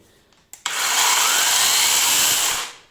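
A loud, steady high-pitched whine of a cordless angle grinder with a saw attachment cutting firewood, starting abruptly after a couple of clicks and running about two seconds before spinning down.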